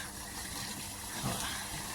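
Water from a motor pump gushes steadily into a tank on a farm, a continuous close rushing flow with no pauses.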